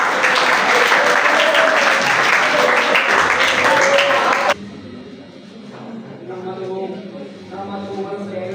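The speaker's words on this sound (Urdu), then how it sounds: "آپ کی بھرپور تالیاں۔" Audience at a school farewell party applauds loudly, a dense wash of clapping for about four seconds that cuts off abruptly, followed by quieter voices.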